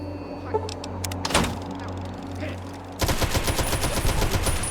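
Gunfire in Fallout: Tale of Two Wastelands during Operation Anchorage: a sharp blast near the start, then from midway a loud, rapid, sustained burst of automatic fire rattling on to the end.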